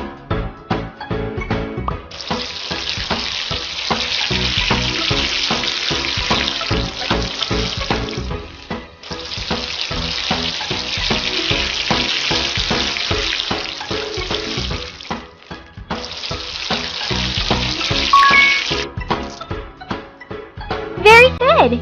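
Steady tap water gushes in a video game horse bath with shampoo, running in long loud stretches with short pauses between and small game chimes near the end.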